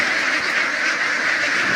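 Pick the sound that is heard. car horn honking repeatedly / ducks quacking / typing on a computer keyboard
ducks quacking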